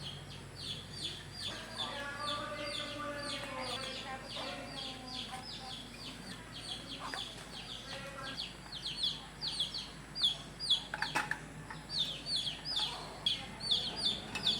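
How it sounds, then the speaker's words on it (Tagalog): Birds chirp and call steadily around a quiet nature campsite, with repeated bright tweets and a rooster-like clucking fowl nearby, a light outdoor background throughout. "Yung maririnig mo lang is mga huni ng ibon sa mga puliglig"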